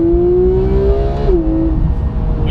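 A Porsche GT3 sports car engine drones steadily while driving, its tone climbing slightly before shifting down, heard from inside the cabin and loud.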